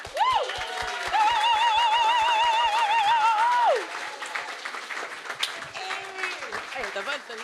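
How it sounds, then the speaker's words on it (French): A church congregation at a water baptism service applauds the baptism candidates with steady clapping, while high whooping and cheering voices ride over it. Talk and chatter continue after the clapping fades. "Est-ce qu'on peut les applaudir?"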